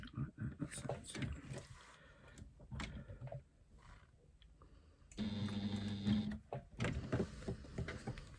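A sewing machine stitches under foot-pedal control, its motor whirring in a steady burst of about a second and a half after a stretch of talking, then easing off as speech resumes.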